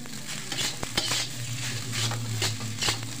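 Turmeric fried rice is stirred in a frying pan, with a steady sizzle and a low hum under repeated scraping strokes of a utensil against the pan.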